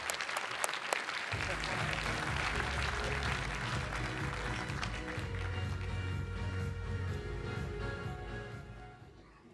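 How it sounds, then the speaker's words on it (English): Applause for an absent award winner at the British Skydiving AGM and awards ceremony, a full crowd clapping steadily for several seconds with a few sharp claps at the start, fading out at the end. "let's give him a clap anyway"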